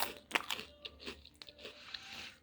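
Someone bites into salted crispy homemade food, giving a few sharp close crunches followed by softer crackling chews, quiet and intimate with no talk.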